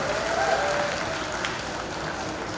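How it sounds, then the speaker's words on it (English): Applause from a yoga session audience right after a countdown and relaxation, a steady broad wash of hands clapping at moderate level for a couple of seconds. "Big round of applause for all yourselves."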